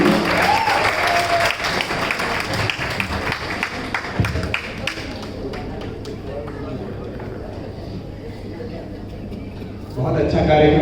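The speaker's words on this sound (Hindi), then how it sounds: "जोरदार एक बार तालियां" An audience at a Hindi poetry and music program breaks into loud, sustained clapping that fades slightly. Talk over a microphone sits under the applause.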